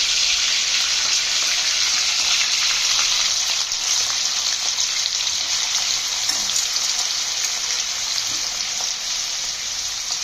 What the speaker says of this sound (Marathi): हे सगळे पीस आपण थोडेसे फ्राय करून घेऊया